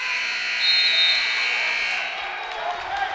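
At the end of a period in a high school wrestling match, a long electronic buzzer sounds over a gym crowd and fades after about two seconds, with an announcer's voice alongside.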